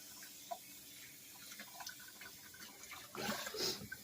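Raw turkey rinsed under a running kitchen tap: a soft, steady water hiss with faint splashes and drips, swelling into a louder, fuller gush near the end, heard close with no talking.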